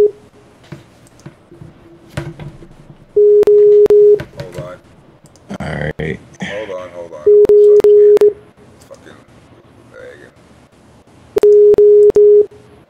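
A Skype call ringing tone sounds three times as steady, loud electronic bursts at regular intervals, breaking through an ongoing late-night conversation between people talking.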